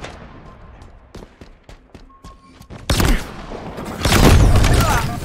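Rapid gunfire in Halo Infinite: a run of sharp, separate shots that builds into dense, loud bursts of fire, with heavy booming blasts near the end.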